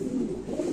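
A Lahori pigeon coos softly at a pigeon farm, one brief low murmuring call standing alone.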